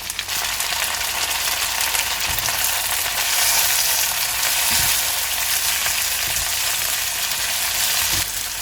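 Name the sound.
vegetables with capsicum and pineapple frying in pan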